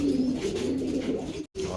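A racing pigeon coos close by as it is taken out, a soft, low, warbling coo running steadily for over a second before a brief gap and a final short note.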